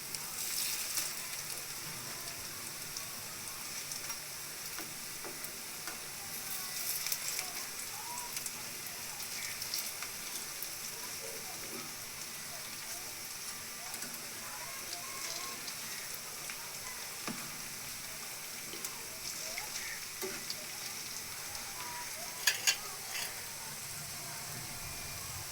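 Flipped banana blossom fritters keep frying in hot oil, a soft, even, rain-like sizzle with fine crackles throughout and a couple of faint utensil taps near the end.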